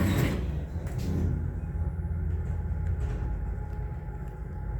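Lift doors in the M&S store in Chester slide shut with a low rumble that is steady and moderately loud, a short clunk near the start and no voices.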